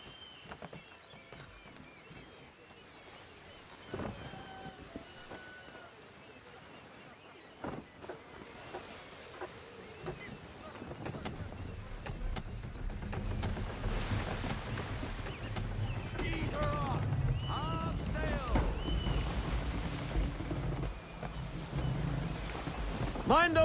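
A sailing ship at sea in the video game Assassin's Creed 3: wind and rushing water start faint and swell steadily louder, with muffled voices shouting now and then over the gusts.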